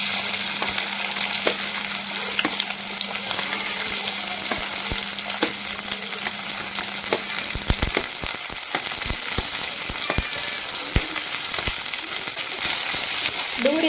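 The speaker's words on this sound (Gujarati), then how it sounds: "આદુ લસણ અને મરચાં છે થોડાક એવા ફ્રાય થાય" Ginger, chili and garlic fry with cumin in a pan for palak paneer, giving a loud, continuous close-up sizzle dotted with crisp pops and the occasional tap of stirring.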